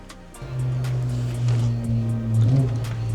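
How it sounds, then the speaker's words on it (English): A Honda Civic passing by at close range, its engine note swelling into a steady low drone that rises and falls over a few seconds, with light clanks nearby. "you can hear the Civic driving by"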